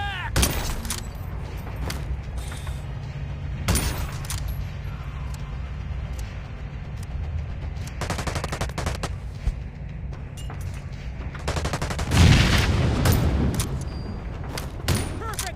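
Gunfire rattles through a firefight in the mobile game The Division Resurgence, with scattered sharp shots and bursts over a rumbling background, building to a heavier blast near the end, mixed with faint in-game voices.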